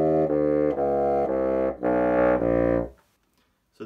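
Bassoon played with intonation and tone color left unadjusted, a run of sustained notes moving through the low register, loud and close, then breaking off into silence.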